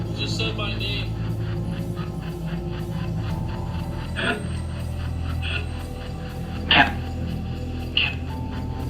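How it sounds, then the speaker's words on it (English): A dog gives a few sharp, separate barks at moderate distance, spaced several seconds apart over a steady background hum and faint voices. "That's a dog."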